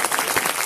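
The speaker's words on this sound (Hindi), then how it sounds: "आप लोग ताली बजा के स्वागत" An audience claps in welcome at a Bhagavatam religious gathering, dense steady applause from many hands filling the room, close and fairly loud, with no talk over it.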